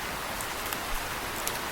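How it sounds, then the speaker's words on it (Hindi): Heavy rain pours down in a cartoon forest as a dense, continuous hiss with scattered drop patter, fairly loud and steady throughout. "बारिश इतनी ज़्यादा तेज है कि बच्चों को नुकसान पहुंच सकता है"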